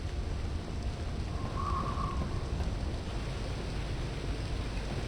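A rainstorm in Voices of the Void, a steady broadband wash of rain at even loudness through the whole stretch, with a faint brief tonal whine in the middle.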